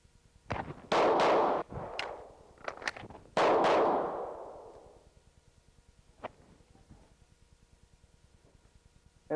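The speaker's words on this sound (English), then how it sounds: "I'm going to do a nice controlled reload. Let's shoot that sequence again." Gunfire from a shooting sequence with a controlled reload: a few loud close shots in quick pairs, a ringing decay, then quieter mechanical clicks of the reload and another shot at the end.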